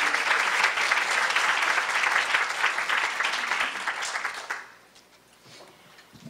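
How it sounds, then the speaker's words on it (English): A conference audience at a climate justice event applauds in a dense, steady burst of clapping that fades out after about four and a half seconds into quiet room tone. "So let's give them a round of applause"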